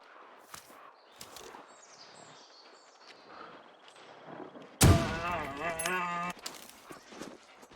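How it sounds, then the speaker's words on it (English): A single rifle shot in the survival video game The Long Dark cracks sharply about midway, with a ringing tail decaying over a second or so; quiet game ambience and faint sounds precede it. "I'm going to fire off another round"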